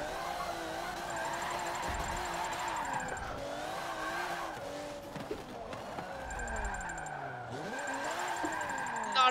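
Car drifting in Forza 7 with tires skidding and squealing, engine revving and wavering through a high-speed drift section, loud and continuous with no talk.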